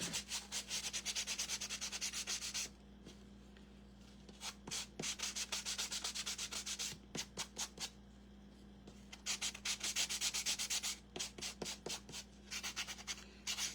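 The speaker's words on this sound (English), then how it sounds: "Once I get done sanding this, that might be ready." Close-up sanding of scrap wood: rapid, rhythmic scratchy rubbing strokes in bursts, pausing briefly between passes, with a steady low hum underneath.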